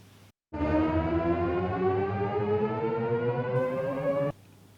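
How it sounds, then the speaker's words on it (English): A synthesized tone sweeps steadily upward in pitch for about four seconds, loud and sustained, then cuts off abruptly into quiet background. "Ah yes, the classic riser."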